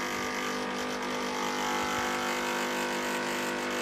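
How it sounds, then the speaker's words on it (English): NEMA 23 stepper motors driving a 3D-printed six-axis robot arm run with a loud, steady whine and rumble layered with tonal hum, vibrating continuously throughout with no talk. "There's also the loud noises and vibrations of the NEMA 23 stepper motors during operation."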